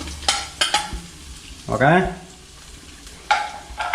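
Coconut pieces sautéing in hot oil in a pan for a Kerala-style country chicken curry, with a few close bursts of stirring and scraping over a low sizzle and a brief spoken word.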